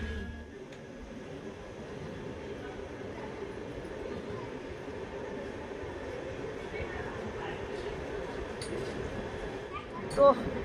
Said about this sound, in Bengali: চলো দেখা যাক কাটোয়া থেকে আমাদের ট্রেনের ডিপার্চার।